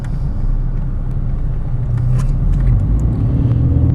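A 2002 Volkswagen Golf GLS with a 5-speed manual drives steadily, giving a continuous low engine and road rumble heard from inside the cabin, with no talk.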